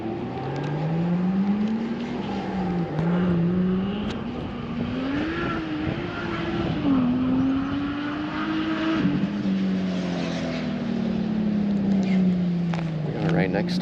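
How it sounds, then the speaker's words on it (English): Cars pass on a nearby road beside a lake during fall bass fishing at dusk, giving a continuous engine drone that rises and falls in pitch as vehicles go by. The traffic noise runs steadily under quieter background sound. "We are right next to a road though, so that's why you're hearing cars probably."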